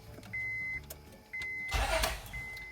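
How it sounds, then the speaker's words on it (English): A Honda Pilot engine starts up after an alternator install, with a brief whine and a louder burst of cranking as it catches, followed by steadier running under a faint tonal hum in a quiet garage. "I'm going to start the engine."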